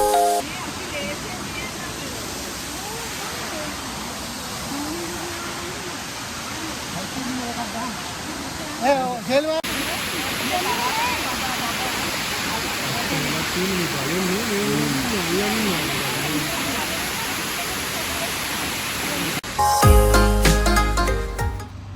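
Ramboda Falls in Sri Lanka roars loudly and continuously nearby, heard from the base of the falls, with voices faintly audible beneath the torrent and a brief clattering shift near the end.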